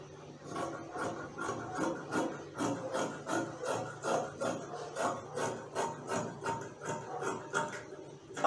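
Scissors snip through fabric for a pencil sleeve in a quick, steady series of short crisp cuts, about two per second, close and fairly quiet with no talking.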